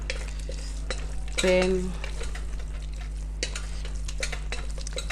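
Chakalaka with baked beans being stirred in a pot, a soft scraping and sizzling mix with a brief louder burst of clatter near the start, steady low cooking noise throughout, no talking over it.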